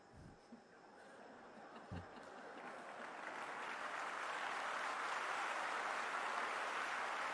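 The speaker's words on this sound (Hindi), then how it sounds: "आपने किसके लिए ताली बजाई?" An audience claps, starting with a few scattered claps and swelling into steady, sustained applause that fills the hall, with no talk over it.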